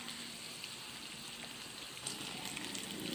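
Egg curry frying lightly in a pan gives a steady, even sizzling hiss throughout, close and moderately quiet, with no voices.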